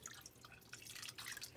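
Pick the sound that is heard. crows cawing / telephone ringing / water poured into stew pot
water poured into stew pot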